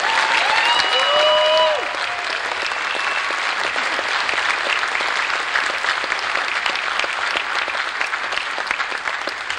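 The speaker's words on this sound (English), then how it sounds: "Can we get a quick round of applause for that group?" A large convention audience applauds at a furry convention's closing ceremony, a broad, sustained wash of clapping that fills the hall, with a brief whoop or cheer near the start.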